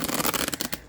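A colorful, somewhat stiff-cardstock tarot deck being riffled briefly, a fast papery flutter of cards close to the microphone, ending abruptly, with no talking.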